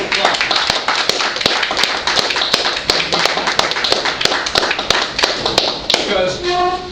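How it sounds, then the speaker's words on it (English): Dense applause from a Toastmasters club audience, with a few sharp, close claps standing out over the steady wash; a voice starts speaking near the end as the clapping thins. "Please, give me a round of applause."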